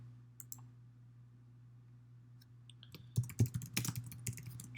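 A computer mouse clicks near the end of a quiet stretch with a low electrical hum, followed by a flurry of sharp clicks and taps at close range.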